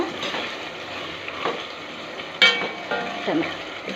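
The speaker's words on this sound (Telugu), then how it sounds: "ఇంకా టమాటాలు సన్నగా తరుక్కున్నాం కదా, వేసేసి కొద్దిసేపు వాడిచిన తర్వాత" Finely chopped tomatoes cook in a pan with onions for onion pulusu, giving a steady soft sizzle and hiss with an occasional brief clink of a utensil.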